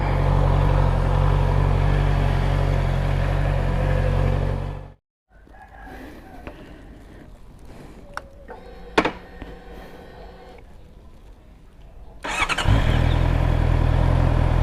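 Big bike motorcycle ridden on the road: a loud, close engine roar cuts out abruptly, then a quieter stretch with scattered clunks and small sounds follows, and the heavy engine surges back near the end. Nobody talks.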